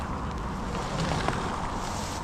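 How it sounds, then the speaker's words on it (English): Strong wind blows across the Monsal Trail in the Peak District and buffets the microphone in a steady, loud, broadband roar with no break. "As you can see, the wind is picking up."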